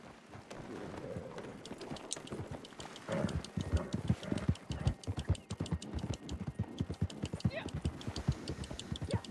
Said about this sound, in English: Hey, I have another horse.